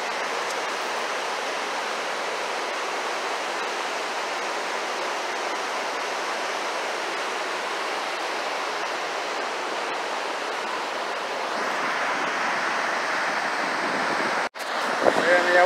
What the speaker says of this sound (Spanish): Miren, amigos, el río.